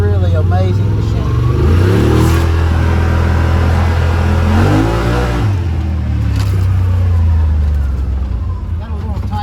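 Engine of a Yamaha Rmax side-by-side rises and falls through several loud revs, close and continuous, as the machine works over off-road terrain with a person talking over it.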